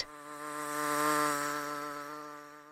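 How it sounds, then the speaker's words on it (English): A buzzing insect hums steadily and close for about three seconds, a dense harmonic drone that swells slightly in the middle and then eases off, with no other sounds around it. "Imagine the annoying buzz of an insect."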